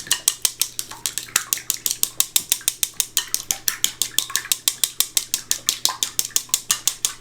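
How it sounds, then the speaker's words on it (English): Chopsticks beat eggs in a bowl with a rapid, steady clicking and tapping, dozens of crisp even strokes repeating close up without pause. "Now we're going to mix it. And that's what we have to use the chopsticks for."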